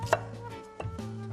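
A kitchen knife slicing vegetables on a cutting board for jajangmyeon, two sharp close chops about a second apart with brief slicing scrapes between them, no talk.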